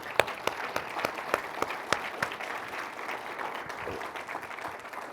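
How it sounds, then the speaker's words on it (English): Audience applause for panelists at a cybersecurity conference in Florida, a crowd clapping steadily with sharp individual claps standing out, fairly near and sustained for several seconds. "I would like to thank our panelists. Give them a round of applause."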